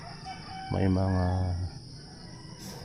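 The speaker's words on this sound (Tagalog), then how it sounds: "Ang maririnig mo lang ay mga tunog ng ibon" A rooster crows once, loud and close, in a Quezon province countryside setting, over a steady background of insect chirping, with a brief bit of speech just before.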